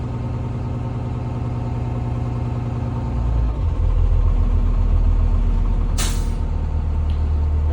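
A school bus diesel engine idles loud and close while air pressure builds, deepening in tone partway through, with a sharp hiss of air release near the end.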